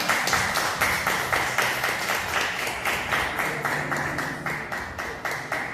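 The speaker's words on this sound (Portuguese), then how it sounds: "Suas palmas é para Jesus." A church congregation claps for Jesus in steady rhythmic applause, loud and close, continuing throughout without speech.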